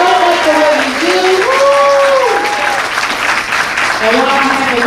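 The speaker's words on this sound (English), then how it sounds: "let's give her a round of applause" An audience at an elementary school celebration claps steadily while a person's voice speaks over the applause, which holds at a fairly even, moderately loud level throughout.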